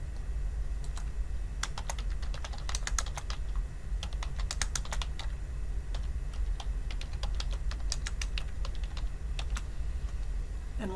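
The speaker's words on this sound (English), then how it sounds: "so I'm going to have to type it manually." Steady typing on a computer keyboard, close and fairly quiet, with irregular runs of crisp key clicks and short pauses. No talking.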